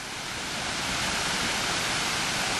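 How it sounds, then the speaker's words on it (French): A steady, full roar of a waterfall on a small river in Trinidad and Tobago, loud and close, unbroken for the whole stretch with no voices. "continuant à remonter la petite rivière, nous arrivons à la fameuse cascade dont on nous a parlé"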